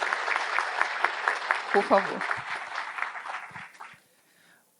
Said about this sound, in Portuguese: Então, por favor, uma salva de palmas para a caçula,